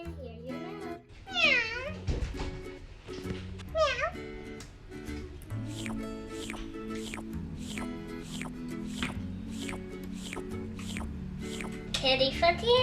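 A child imitates a cat with several rising and falling meows, close and expressive, followed by a steady rhythmic backing of music with another meow near the end.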